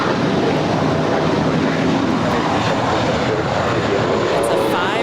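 A five-year-old JetBlue Airbus A321 departing LAX, a loud, steady broadband jet engine roar at full thrust throughout, with someone talking over it.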